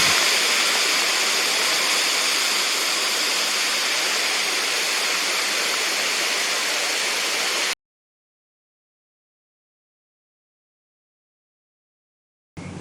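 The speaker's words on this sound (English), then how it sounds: "a 30-foot tall man-made waterfall and a canopy running all the way around" A 30-foot tall man-made waterfall inside a bird park aviary roars as a steady, broadband rush of falling water, loud and unbroken for several seconds before cutting to silence, then briefly returning at the end.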